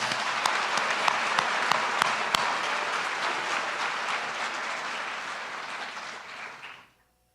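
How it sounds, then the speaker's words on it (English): Audience applause at a Jefferson High School signing ceremony, with a few sharp individual claps standing out early over a steady wash of clapping that tapers and then cuts off abruptly near the end. "Let's give Victoria a round of applause"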